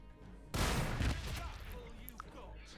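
Massed gunfire as a unit opens fire in Warhammer Battlesector, a loud burst of shots that starts abruptly and rattles on for about half a second before easing into a lower crackling tail, with no talk over it.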